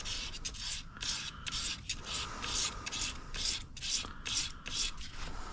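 Fine P800 sandpaper is rubbed in quick back-and-forth strokes, a soft, rhythmic, close-up scratching of about a dozen bursts with brief pauses between them.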